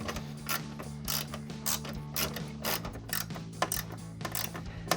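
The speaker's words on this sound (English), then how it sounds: "finish it off with a ratchet" A ratchet tightening a bolt on a Jeep Wrangler fan shroud, with close, crisp clicking in short repeated strokes over a low steady hum, with no talking.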